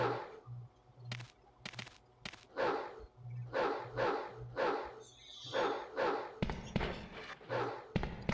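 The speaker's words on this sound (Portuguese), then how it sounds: "Cachorro?" A dog in the video game Resident Evil 2 barks repeatedly, about a dozen sharp, echoing barks in quick bursts, with a low hum and a few thuds between them.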